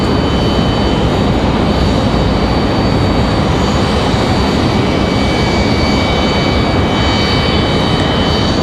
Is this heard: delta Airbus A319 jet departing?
yes